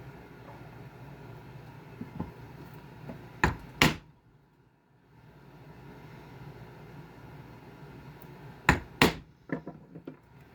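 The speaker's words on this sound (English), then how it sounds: "I'm lining my flat chisel up with the top and bottom, and then I got a little mark for my spacings" A flat chisel marks bullet-loop spacings on a leather strip for a tapered western gun belt, giving two pairs of sharp, close taps several seconds apart over a quiet room hum.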